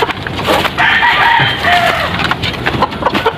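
Egg-laying Rhode Island chickens cluck and squawk close by in a coop, a busy run of overlapping calls with a few sharp wooden knocks mixed in.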